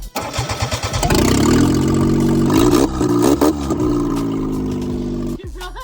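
A freshly rebuilt car engine cranks with a few rapid starter pulses, catches and runs loudly at a steady idle with slight revving, then cuts off near the end.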